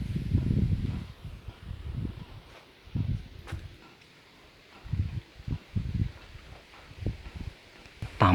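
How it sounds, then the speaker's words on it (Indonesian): Strong gusts of wind at the foot of Mount Merapi, buffeting in repeated low rumbling bursts against a quieter steady rush, loud and close with no talk. "Kecepatan angin di sini memang cukup tinggi."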